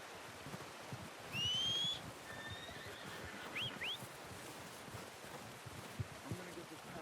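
Horse in the open-world western game Red Dead Redemption 2 neighing in a short whinny amid rustling and soft outdoor ambience, followed by fainter snorts and hoof sounds.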